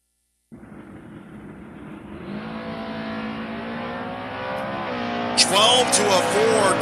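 Second-generation Camaro drag cars, including a 1978 version, launch side by side with a sudden roar that builds into rising engine revs, ending with sharp high-pitched squeals as they pass close by.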